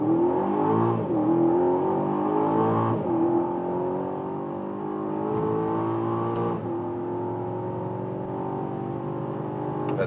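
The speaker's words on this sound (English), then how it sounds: "We find a safe spot and accelerate from 25 kilometers an hour and let the hell roll." Aston Martin DBX or Audi RS Q8 luxury performance SUV accelerating hard from low speed, its engine note rising steadily through several gears with brief dips at each upshift, loud and continuous from inside the car.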